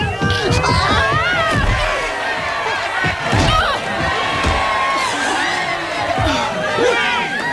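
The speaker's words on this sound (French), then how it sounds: "Quelle foule!" Crowd cheering at a charity event, a loud, lively mass of shouting and excited voices with thumps and bursts of yells layered over steady babble.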